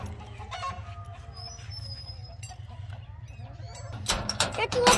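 Chickens cluck close by with an Aseel rooster's calls, and a burst of louder squawking near the end, over a low background hum.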